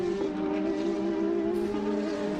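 F3 race cars run on a circuit, a loud, sustained engine drone with a steady pitch held across the whole stretch, with no commentary over it.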